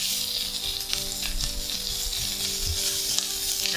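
Bacon substitute sizzles and fries in grease in a pan, a dense and steady crackle with light stirring scrapes. The sound is close and continuous, with no talking.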